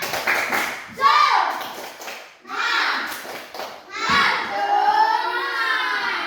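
A class of schoolchildren chant together in rhythm, with quick claps punctuating the chant in a classroom spirit clap, loud and close, in a lively patterned burst.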